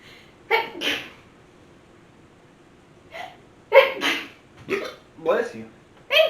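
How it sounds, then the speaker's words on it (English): A pair of sharp sneezes up close, followed after a pause by several more quick bursts and short breathy sounds. "Normally I sneeze in twos"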